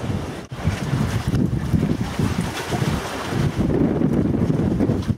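Strong gusting headwind of around 30 mph with 40 mph gusts on Lake Superior buffets the microphone during paddling, a loud continuous roar that swells and dips, with some water noise underneath and no talk.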